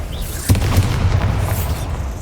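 A magical spell blast in the game Hogwarts Legacy, a sudden deep boom followed by a rumbling roar that slowly fades away.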